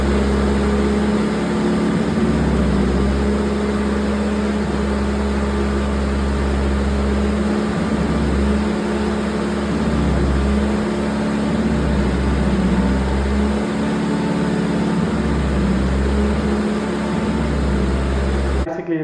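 A 2014 Honda CBR650F motorcycle engine running with a lean misfire and shuddering, a loud, steady close drone with a low uneven throb that holds for the whole stretch before cutting off at the end.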